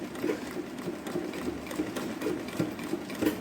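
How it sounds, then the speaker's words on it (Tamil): A sewing machine stitches a tulip sleeve slowly, its needle running in an even, close mechanical patter of quick regular pulses with a low motor drone underneath. "இது வந்து ஃபாஸ்ட்டாக போகக்கூடாது, ஸ்லோவாக தான் தைக்கணும்."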